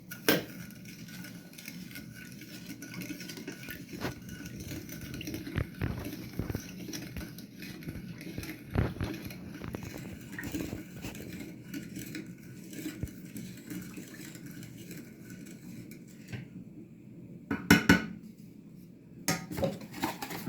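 Sugar being mixed into half a litre of milk in a bowl for chocolate verrines, with soft scraping and light clinks of a utensil against the bowl repeating steadily at close range, plus a few louder knocks near the end.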